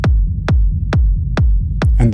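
An intermediate-level techno rumble: five punchy kick drums at a steady tempo with a denser, grittier low rumble smeared between hits, ending in a brief noisy burst.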